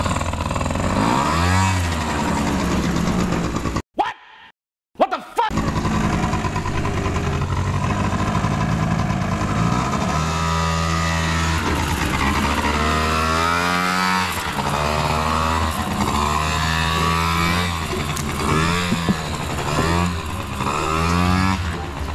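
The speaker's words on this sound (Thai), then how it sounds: "จะลองติดเครื่องดูก่อนเดี๋ยวจะติดเครื่องแล้วขี่เลยล่ะ" A loud motorcycle engine runs close by, cutting out briefly before restarting and settling into a steady running rumble with pulsing rises in pitch.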